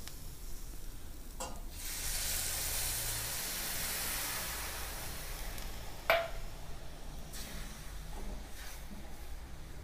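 A continuous hiss and sizzle of red wine hitting a hot pan with cooked garlic, with a few sharp clinks of a utensil against it.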